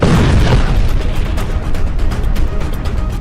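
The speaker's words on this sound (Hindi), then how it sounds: "इजरायल का बम गाजा में फटता है" An Israeli bomb explodes in Gaza, a loud, heavy blast followed by a sustained deep rumble that rolls on and slowly fades, with no talking.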